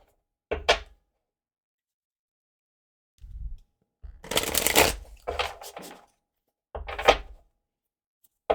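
Several bursts of tarot cards being shuffled and riffled close by, separated by silent gaps, with a soft thump between them.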